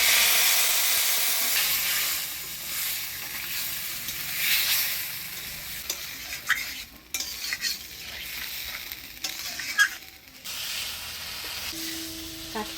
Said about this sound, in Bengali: কাঠখোলায় ভাজা মশলা দিয়ে ভালোভাবে কষিয়ে নিলাম